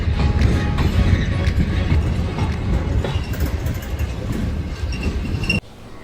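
A train rumbles steadily past with a deep continuous roar and faint rail clatter, then the noise drops abruptly near the end.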